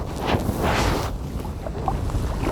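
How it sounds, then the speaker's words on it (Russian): Steady wind noise buffets the microphone outdoors during summer feeder fishing on open water, a continuous broadband rush with gusty swells early on, close and fairly loud with no talk. "ветер по-прежнему есть, но уже не такой, как был до этого"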